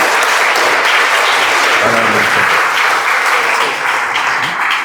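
Loud, dense applause fills a church at a temple inauguration service, steady clapping from a large congregation throughout with faint voices mixed in.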